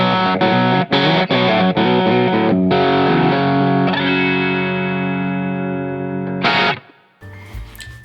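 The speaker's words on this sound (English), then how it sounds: "Okay, so this is my PRS S2 Vella" A PRS S2 Vela electric guitar plays through heavy distortion, with loud chugging chords and sharp stops that give way to long sustained ringing notes before cutting out.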